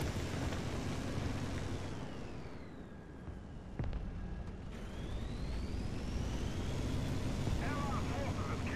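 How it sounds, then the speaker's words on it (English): An enemy jet in the War Thunder tank battle roars overhead, a loud whooshing engine sweep that dips and rises again over constant vehicle rumble. "Not friendly jet noise."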